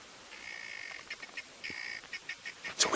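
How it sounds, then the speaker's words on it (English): Alarmed birds call repeatedly in thick bush at Djuma Game Reserve, a drawn-out nasal note followed by a run of short, rhythmic calls rising to a louder burst at the end. "Those birds are still very distressed"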